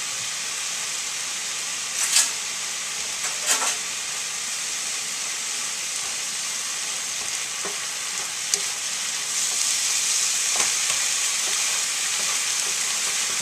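Shrimp fried riced cauliflower sizzles steadily in a hot pan, a broad hiss that rises slightly near the end, with a few soft scrapes and clinks of a utensil stirring, close and without speech.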